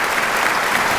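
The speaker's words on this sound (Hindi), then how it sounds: "Very good, Tali बजाइए।" Dense audience applause in a classroom-style session, a brief, loud, continuous burst of many hands clapping.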